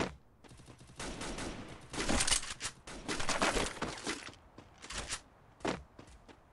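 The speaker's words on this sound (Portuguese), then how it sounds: "Tem cara me atirando com arma de um tiro." Bursts of gunfire in the mobile battle royale game Free Fire, with clusters of rapid shots and single cracks across several seconds, close and fairly loud with short gaps between volleys.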